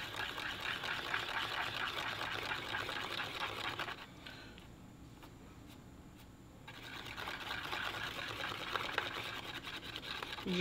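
Mixing stick stirring a crafting mixture for a bottle opener project, a steady scraping, sloshing sound that pauses briefly midway before resuming, close and continuous with no talk.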